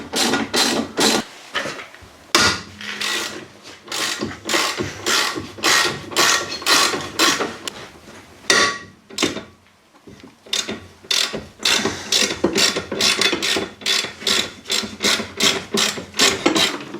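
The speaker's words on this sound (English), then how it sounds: "So I'm removing the rear suspension so I can get at the underside of the rear floor and treat all that" Hand tools work on the rear suspension of a Daihatsu Charade during a restoration, with close, rhythmic ratcheting and rasping strokes repeating in steady bursts and a brief pause partway through.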